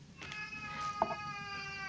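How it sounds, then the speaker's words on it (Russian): A house cat asking to be let outside gives one clear, close meow midway, with faint rustling before it. "Ну вот видите, и кошка просится на улицу."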